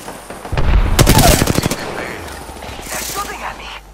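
A rapid burst of automatic gunfire in a video game, loud and close for about a second, followed by quieter scattered shots and game sounds.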